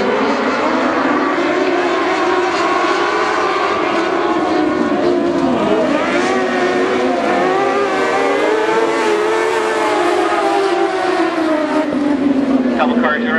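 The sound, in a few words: dwarf race cars racing on speedway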